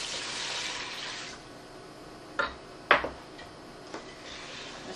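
Three cups of water pour onto rice in a pot with salt and a cinnamon stick, a steady close splashing rush for over a second, followed by a few sharp clicks and taps of kitchenware.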